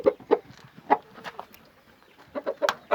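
An Aseel rooster clucks in a quick run of short, close calls, pausing briefly before a second cluster of clucks.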